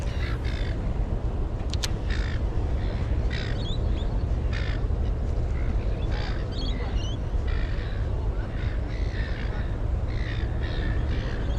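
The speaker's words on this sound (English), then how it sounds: "Where these seagulls just came from," Seagulls call repeatedly over a fishing trip's steady outdoor background of wind and water, the harsh squawking cries spread across the whole stretch at moderate distance.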